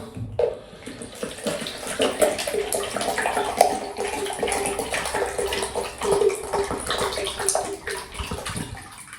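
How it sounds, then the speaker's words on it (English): Liquid pours steadily into an electric radiator in a bathroom, a continuous gurgling, splashing flow close by that runs for several seconds with slight surges in volume. "I'm going to pour this 1 litre into here."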